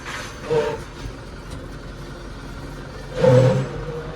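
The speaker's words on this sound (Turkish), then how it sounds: "Bu fren de böyle ötmeye başladı ya" A tractor brake squeals in two short, high-pitched bursts, the second louder and longer, above a low engine hum with no talking.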